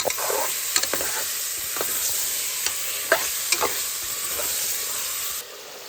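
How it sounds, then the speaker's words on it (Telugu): Chicken stirred into turmeric and hot oil in a pan, a constant bright sizzle with several sharp spoon clacks and scrapes, then the sizzle drops away at the end. "ఇప్పుడు చికెన్ వేసుకొని కలుపుకోవాలి."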